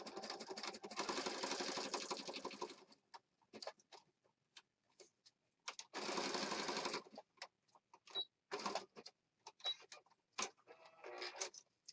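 Sewing machine stitching a junk journal embellishment, two loud sustained runs of rapid mechanical stitching separated by short bursts and ticks, close and without talk.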